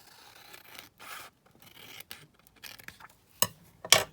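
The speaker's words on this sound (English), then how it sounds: "then you can just cut the edge off." Scissors trim the edge off a glued paper envelope in close, quiet snips and crisp paper crunches, coming irregularly and ending in two sharper cuts, with no voices.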